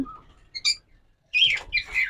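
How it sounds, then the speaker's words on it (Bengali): Yellow pet birds in a bird shop give short bright chirps and squawks in a few separate bursts with brief quiet gaps between them. "এখানে হিউজ পরিমাণ পাখি রয়েছে ইয়েলো কালার"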